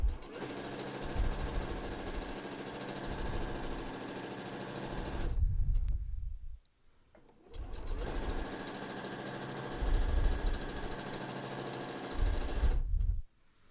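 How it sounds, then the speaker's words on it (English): Sewing machine stitching a fabric mask tie strap down the middle, a loud steady mechanical whirring hum in two long runs separated by a brief pause, close and alone without talking. "just sew down the middle this time"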